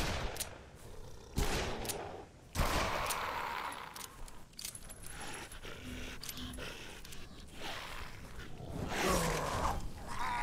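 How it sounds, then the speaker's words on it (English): Gunfire in Dead Island Definitive Edition comes as a dense run of sharp shots and impacts over a constant game-soundscape bed, with bursts clustering through the stretch. "I will shoot this one."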